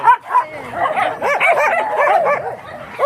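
Small dogs at an animal shelter for abandoned dogs yapping and whimpering in quick, excited bursts, close by, with high yips overlapping continuously throughout.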